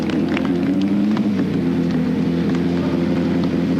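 A Ford Escort rallycross car sits with its engine running after a championship final at Brands Hatch, giving off a steady, loud, low mechanical drone that holds without break from start to finish.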